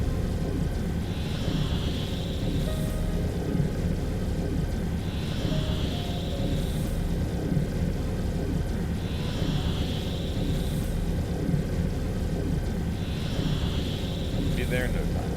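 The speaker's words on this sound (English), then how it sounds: "Warp engine activated." Warp engine running in the Dyson Sphere Program video game: a steady low rumbling drone with a soft whooshing pulse repeating about every four seconds, while a player talks over it.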